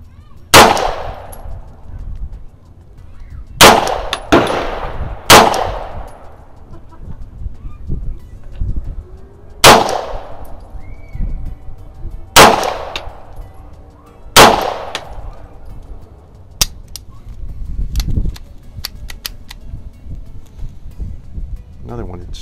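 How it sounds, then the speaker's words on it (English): A Beretta 92FS M9A1 pistol fires commercial ammunition at an outdoor shooting range, about seven loud sharp shots spaced a second or two apart, each with a ringing decay, and faint background noise between them. "just shoot it as fast as I think I can reliably hit the target"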